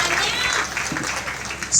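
A crowd at a poetry recital on the Clean Ganga Mission applauds a poet with short, dense clapping while a voice speaks over it.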